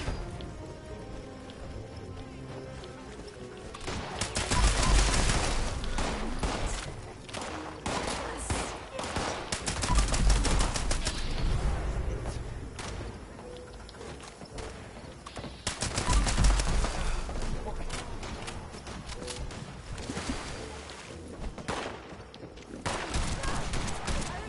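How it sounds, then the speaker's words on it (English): Rapid bursts of gunfire from the video game Invaders from the Beyond rattle in loud repeated volleys, swelling and easing over a constant background of game noise. "Excuse me while I shoot you."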